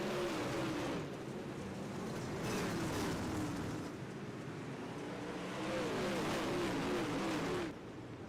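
Late model race cars circle Federated Auto Parts Raceway at I-55, their engines droning and whining in rising and falling sweeps as the pack passes, heard at a distance and fairly faint.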